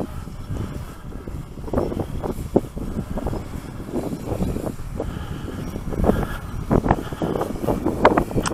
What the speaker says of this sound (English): I'll try muting it for some of the wind noise.